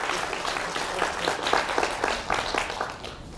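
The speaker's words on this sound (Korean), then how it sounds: "박수 좀 쳐줘보세요." An audience at an author's lecture on taxes breaks into applause, a moderately loud wash of many hands clapping with a few sharper claps standing out, easing slightly at the end.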